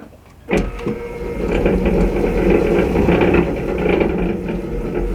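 An electric motor being installed on a small boat project is plugged in and spins up with a sudden start, then settles into a steady, loud whirring mechanical hum that holds at an even level.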